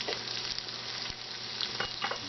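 Chopped shallot sizzles and crackles in a hot Instant Pot, a steady close frying hiss with small pops and a few stirring scrapes, no voices.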